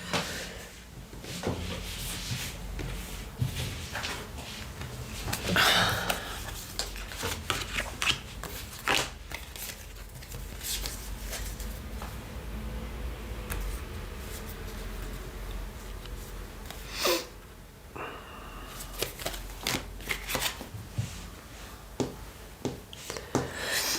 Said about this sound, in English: Let me just pick up these cards.